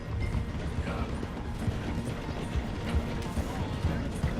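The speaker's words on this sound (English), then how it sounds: "my horse is also slowing down" Galloping horse hooves in Red Dead Redemption 2 during a train chase, a continuous rapid clatter of hoofbeats under rumbling train and wind noise.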